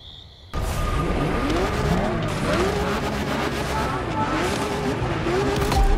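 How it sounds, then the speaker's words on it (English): A Lamborghini Aventador in The Crew Motorfest, an engine roaring loudly after a sudden start, with revving pitch swings and tire squeal from skidding continuing throughout. "have you ever seen a Lamborghini skid?"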